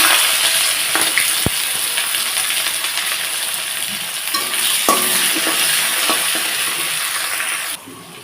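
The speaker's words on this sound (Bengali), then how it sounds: "দিয়ে দেবো পেঁয়াজ কুচি" Chopped onion hits oil spiced with cardamom and cloves, setting off a loud, continuous hiss with a few sharp clinks of the utensil, before the sizzle suddenly drops near the end.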